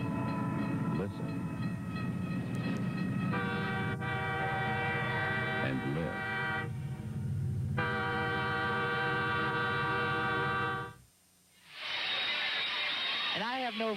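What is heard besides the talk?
train passing with horn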